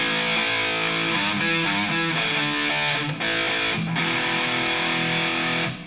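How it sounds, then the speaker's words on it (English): Heavily distorted electric guitar plays chords and riffs continuously through a loud Marshall JCM 900 series amp, dense and saturated with a modern distortion sound from start to finish. "you can hear it's got a little more modern distortion sound to it"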